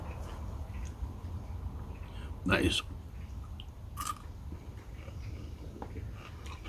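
Crunchy chewing of a malt vinegar pickle close to the mic, with a couple of louder crisp bites standing out against a quiet, low background.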